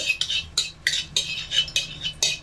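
A metal utensil stirs heating oil in a pan, about eight rhythmic scraping strokes against the metal, close and clear with no voices.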